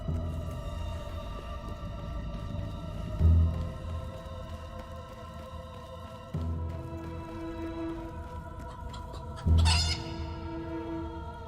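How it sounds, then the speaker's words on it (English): Chickens clucking in a ravine in the Fable 3 video game, a few short clucks and squawks at intervals over a steady droning game soundtrack. "And the killer monsters are... chickens?"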